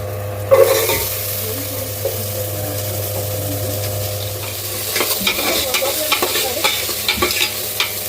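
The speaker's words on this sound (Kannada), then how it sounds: "ಈಗ ನೀಟಾಗಿ ಈರುಳ್ಳಿ ಎಲ್ಲ ಚೆನ್ನಾಗಿ ಕೆಂಪರವಾಗಿ ಫ್ರೈ ಮಾಡ್ಕೊಳ್ಳಿ." Chopped onions and green chillies frying in a pan, a loud, steady oily sizzle with a low hum beneath and occasional scraping clinks of a spoon stirring toward the end.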